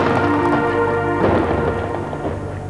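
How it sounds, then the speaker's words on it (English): Thunder from a storm on Venus as a sound effect, a long loud rolling rumble with crackling, swelling midway and slowly fading, with rain-like hiss underneath and no voices. "Thunderstorms."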